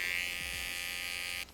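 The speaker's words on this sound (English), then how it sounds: "I'm gonna go in with the trimmers and just fix that all up" An electric hair trimmer buzzes steadily while cleaning up a fade haircut, a close, continuous high-pitched hum that cuts off near the end.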